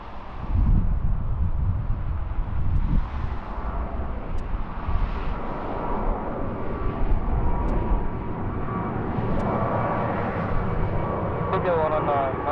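Aircraft roaring on takeoff and landing at Gimpo Airport, a broad continuous jet rumble heard from a distance beneath air traffic control radio voices.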